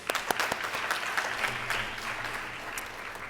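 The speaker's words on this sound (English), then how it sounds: "a round of applause for them" An audience at a stage performance event applauds steadily throughout, a dense wash of many hands clapping at moderate loudness, with no voices standing out.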